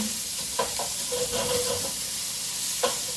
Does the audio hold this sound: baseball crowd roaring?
no